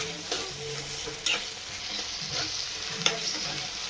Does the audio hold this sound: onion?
yes